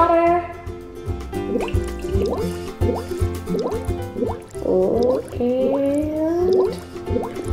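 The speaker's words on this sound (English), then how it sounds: "Next, add a cup of water." A cup of water is poured into a container, giving a gurgling, rising fill sound with splashes and drips at close range, with children's voices faint in the background.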